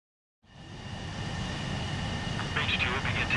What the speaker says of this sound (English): H2, begin takeoff sequence